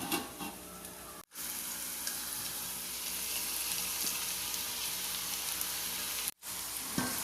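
Ulli thandu thoran (spring onion stalks mixed with turmeric powder) sizzles steadily in a pan, a dense, even crackle that drops out briefly twice.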